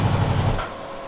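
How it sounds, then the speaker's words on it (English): After an Aprilia motorcycle is switched off, its hot engine's cooling fan keeps running, giving a low, steady whirring hum that is strongest at first and then softens. "Yep, the engine fan's running."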